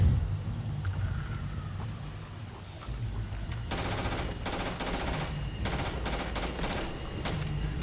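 A gun fires in Starfield in several rapid automatic bursts, moderately loud, after a quieter stretch of low background rumble.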